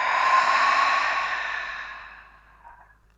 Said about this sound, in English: Inhale. Exhale out the mouth.